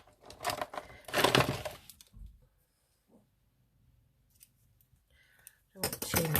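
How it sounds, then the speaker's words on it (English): Scissors snipping navy ribbon at close range, a few crisp cuts and clicks between spoken remarks, with quiet gaps in between. "Let's get my scissors."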